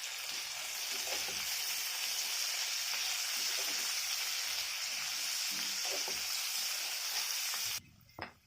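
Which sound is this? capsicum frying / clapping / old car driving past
capsicum frying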